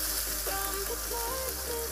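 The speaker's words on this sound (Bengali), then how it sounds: "এবার মাংস দিতেছে কড়াইতে।" Meat dropped into hot soybean and mustard oil in a kadai, giving a steady loud sizzle and hiss with no talk over it.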